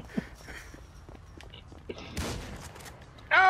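Shotgun blasts in GTA Online, a couple of sharp bursts amid footsteps and scattered game noise, with voices talking in the background.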